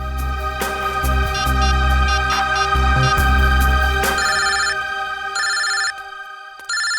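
A telephone rings while a call is placed to a daughter: a loud electronic ringtone that repeats in regular bursts, then thins out and fades toward the end.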